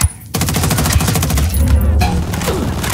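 Rapid submachine gun bursts from hostiles in the Ghost Recon Wildlands video game, a loud, dense rattle of repeated shots running almost continuously after a brief quiet opening, close and dominant.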